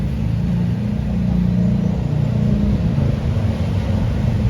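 A Honda Vario 125 scooter fitted with a ZRC exhaust runs close by, giving a steady, loud low rumble with a slight rise in revs partway through and no talking over it.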